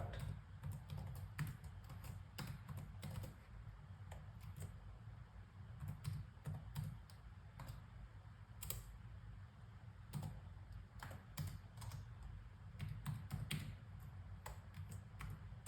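Arduino code being typed on a computer keyboard, with a steady stream of close key clicks in irregular bursts and short pauses over a low background hum.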